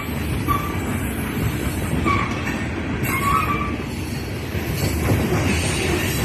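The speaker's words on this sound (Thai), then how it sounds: "พอดีรถไฟมา รถไฟขนถ่านหิน โน่นขบวนยาวมากเลยนะคะ" A long coal freight train rumbles steadily past nearby, wheels clattering continuously with faint squeals rising over the low rolling noise.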